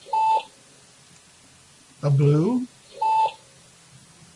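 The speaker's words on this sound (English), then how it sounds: "And notice every time we do this, the alarm goes off." Software meter alarm in a computer program sounding two short, identical electronic beeps about three seconds apart, with a brief spoken phrase between them.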